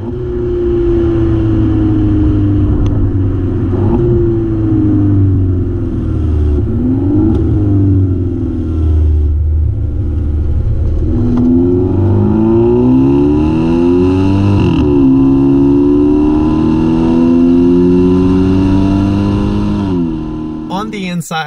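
A Mazda 3 fitted with a full Mazdaspeed catback exhaust, second cat delete and aftermarket tips, revving repeatedly with sharp pitch climbs and drops over a deep droning idle, loud and close.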